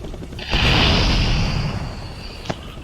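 A deep video-game explosion booms and rumbles, then fades, followed by a short sharp pop.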